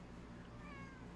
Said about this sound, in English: Meow? He said meow.